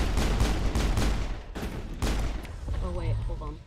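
Rapid bursts of gunfire in a sci-fi shooter video game rattle loudly in quick succession, followed by a softer stretch with a voice-like tonal sound near the end.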